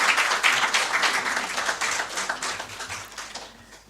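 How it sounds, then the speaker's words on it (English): An audience at a national economic dialogue report presentation at the Presidency gives the President another round of applause, a dense wash of clapping that stays steady before gradually thinning and fading toward the end. "Shall we please give Mr. President another round of applause?"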